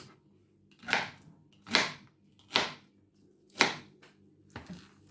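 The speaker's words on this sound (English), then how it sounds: "cut the celery" A knife chopping celery on a cutting board, five distinct, crisp strikes spaced about a second apart, close and clear, with no talking.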